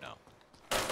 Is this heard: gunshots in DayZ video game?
yes